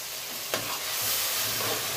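Steady close sizzle of garlic and chili paste frying in hot oil with grated tomatoes just added, a brief stirring clatter near the start over the continuous hiss.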